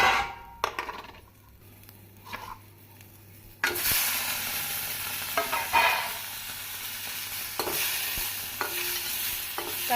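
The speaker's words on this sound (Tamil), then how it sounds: "தக்காளி போட்டு நன்கு வதங்கவும்" Chopped tomato and shallots sauté and stir in a hot pan for a hotel-style salna, with close sizzling and frying, scraping spoon strokes and occasional clinks, louder after the first few seconds.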